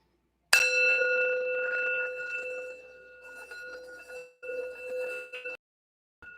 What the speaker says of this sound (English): I wanted to do the sound bell real quick just to get the energy right.